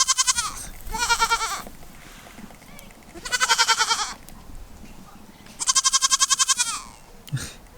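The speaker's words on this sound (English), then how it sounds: "Next door, they have pygmy goats." Three loud bursts of pygmy goat bleating, each a rapid wavering cry, separated by quieter pauses with faint background noise.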